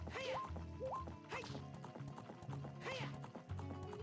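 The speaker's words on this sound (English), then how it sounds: "The horse sound jumping across." Horse hooves clatter as the horse jumps in the video game Ocarina of Time Randomizer, a few sharp thwacks mixed with bright chiming game music, fairly quiet and without talk.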